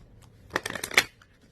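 A tarot card deck shuffled once, a brief quick riffle of crisp card flicks lasting under a second, close and alone.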